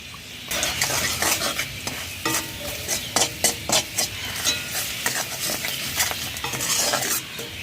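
Chili powder, turmeric, salt and a little sugar are stirred with boiled vegetables in a sizzling pan for a katla fish curry with green banana, potato and bori, giving repeated scraping spoon strokes over steady frying, with no talk.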